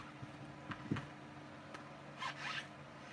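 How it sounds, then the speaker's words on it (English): A small resealable plastic bag zipped shut after a watercolour stamping session, giving a couple of short quiet rustles and a brief zip-like seal in a calm room. "I'll put it in one of those wee resealable bags"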